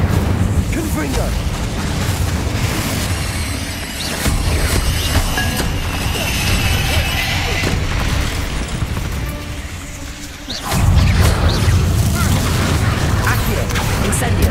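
Magical spell explosions from Incendio and Confringo, heard as loud booming blasts and fiery bursts within dense, continuous game action, with a sharp rise in intensity near the end.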